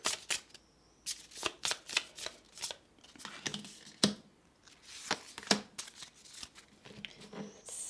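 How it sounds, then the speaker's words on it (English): Tarot cards being shuffled close up but softly, a rapid patter of riffles and flicks in uneven clusters with light rustling, no talking over them. "Some tarot cards. They came out fast."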